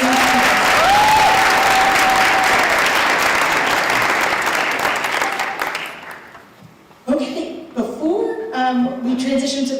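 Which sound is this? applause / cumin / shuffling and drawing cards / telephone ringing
applause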